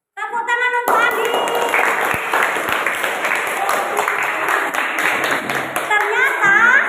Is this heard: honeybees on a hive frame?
no